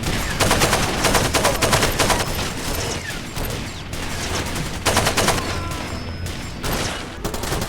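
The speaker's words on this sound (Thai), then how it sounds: "ปืนนี้ก็แน่นเหมือนกันนะเนี่ย เสียงเนี่ย" Gunfire from a weapon in the video game Far Cry 2: dense, loud bursts of rapid automatic shots fill the whole stretch, broken by a few short gaps, with no talking over them.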